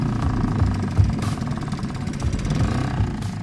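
A small outboard-type engine on a sailboat runs at a steady, fairly high idle just after a choke start. It gives a close, continuous chugging rumble with no voices.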